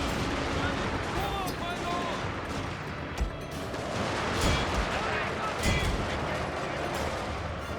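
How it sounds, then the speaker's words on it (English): In the Shogun II: Fall of the Samurai strategy game, naval guns fire amid a dense, continuous battle din, with repeated booming reports and rolling crackle of gunfire over the whole span, and someone talking throughout. "There's my naval guns."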